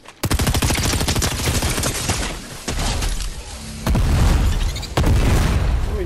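Heavy, loud gunfire from a Fortnite solo match: dense rapid volleys with booming impacts, broken by brief pauses and fresh bursts near the end.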